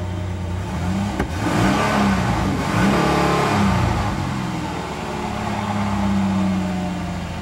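A 1994 Ford Explorer Limited engine revving unevenly as the throttle is applied, a steady loud idle rumble that swells and sags and stumbles. Close and continuous, with no talking.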